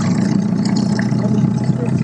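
A motorboat engine runs with a steady, droning low rumble throughout, close and continuous beneath voices talking.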